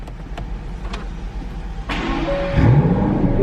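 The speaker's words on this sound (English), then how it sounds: "Beautiful sound with that V12." A 2018 Aston Martin DB11 V12 cranks and fires, with a few light clicks and then a sudden loud start that settles into a rising, rumbling idle close by.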